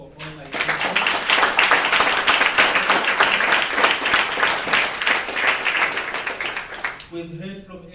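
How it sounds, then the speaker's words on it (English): A loud, dense round of applause from an event audience honoring teachers during Global Entrepreneurship Week, starting just after half a second and running steadily for about six seconds before fading, with a voice speaking briefly at the start and again at the end. "Can I please get a round of applause for all my teachers?"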